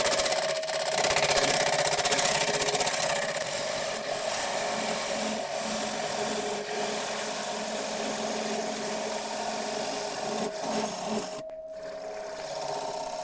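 Lathe-turned London plane wood takes final cuts, a continuous rough scraping rasp of the gouge over the whirring lathe, close and steady with brief breaks.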